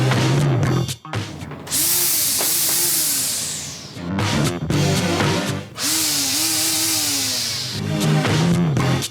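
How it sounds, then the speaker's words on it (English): Plastic-blade weed whacker from Temu cutting grass, a loud, close, high-pitched whining buzz with pitch rising and falling as the motor revs; two long bursts separated by brief pauses, no talk. "Let's use the plastic weed whacker first"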